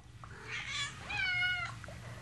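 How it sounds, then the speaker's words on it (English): A cat meows in a drawn-out, wavering call, fairly clear over a faint background hum, followed by a second rising meow, with no talking. "A kitty cat."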